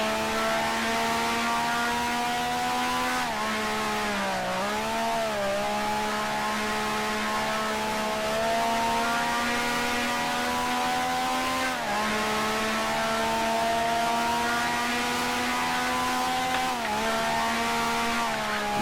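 A 1965 racing car engine in the Grand Prix Legends sim screams at high revs with a steady buzzing whine, dipping briefly at gear changes or corners before climbing again.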